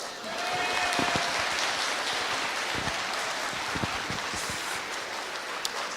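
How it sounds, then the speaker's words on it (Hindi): Audience applause at a motivational speech event, a dense steady patter of many hands clapping at once, loud and sustained for several seconds with no voices over it. "सारे लड़के जोर जोर से लड़कियों के लिए पहले तालियां बजाओ।"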